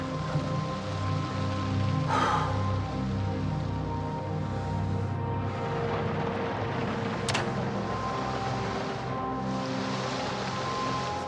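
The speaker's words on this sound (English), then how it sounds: "Sounds like it's still raining." Steady rain falling in the video game Project Zomboid, a continuous broadband patter that holds at an even level throughout, with no talk over it.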